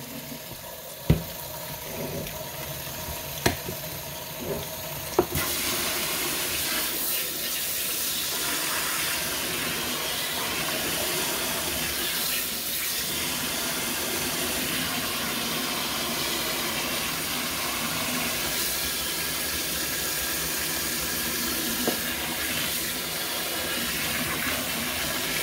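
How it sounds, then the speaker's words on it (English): Hot water pours into a foot spa basin as a continuous rushing, splashing flow that starts after a few light knocks and then runs steadily and fairly close, with no voices. "Add hot water."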